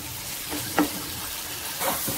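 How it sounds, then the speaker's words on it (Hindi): Two medium potatoes and a cup of peas fry in spices in a pan, giving a steady low sizzle broken by a few brief stirring scrapes, with no talking. "मैंने इसको अच्छे तरीके से भून लिया 5 से 6 मिनट"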